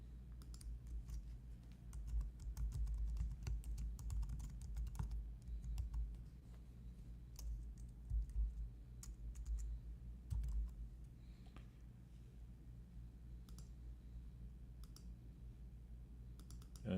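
Typing on a computer keyboard while writing an email: steady, fairly quiet clatter of keystrokes in irregular bursts over a low background hum, no voices.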